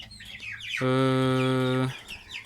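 A high, sustained chick chirping call rings out for about a second amid softer bird chatter on a poultry farm, close and fairly loud.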